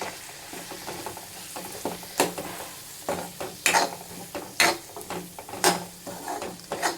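Spices for sundakkai kuzhambu sautéing in a pan, with a soft sizzle under repeated sharp scrapes and clinks of a spoon stirring against the metal at irregular intervals, close and moderately loud, no talking.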